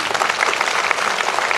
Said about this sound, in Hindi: आप फिर से एक बार जोरदार ताली बजाएं।